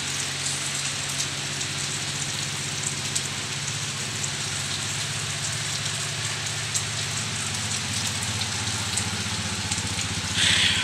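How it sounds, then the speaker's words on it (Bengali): Heavy monsoon-style downpour drumming steadily on surfaces, a dense continuous hiss with no break and no voices, loud and close throughout. "আজকের রাত্রে থেকেই অনেক মুষলধারে বৃষ্টি হতেছিল।"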